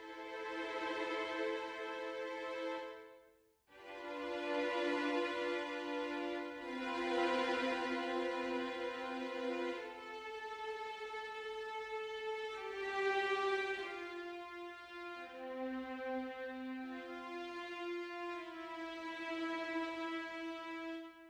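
Free classical strings Kontakt instrument shaped by dynamics, expression and tremolo faders, sustained layered string chords swelling and easing in long phrases, with a brief gap near the start and no talk.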